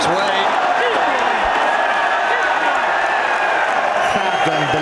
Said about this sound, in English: Crowd going ballistic.